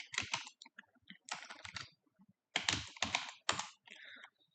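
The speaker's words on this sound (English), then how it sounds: "Enter name, let's say Vicky. Account number 55555" Typing on a computer keyboard comes through as close bursts of quick key clicks, several short clusters separated by brief pauses, fairly quiet and with no voices.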